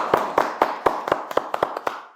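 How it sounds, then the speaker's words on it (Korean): A small audience claps briefly at a Jeongeup culture event, the sparse uneven hand claps coming in a loose, thinning burst with no talk over them. "박수 한번 쳐주세요."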